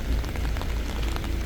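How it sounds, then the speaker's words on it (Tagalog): Heavy rain pouring outside a church in Tanay, Rizal, a steady dense hiss of drops drumming on surfaces with a low rumble beneath. "Malakas pa rin yung ulan."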